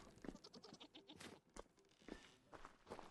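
Goats in Vintage Story bleat in short scattered calls, several overlapping at moderate distance, with soft footstep crunches between them.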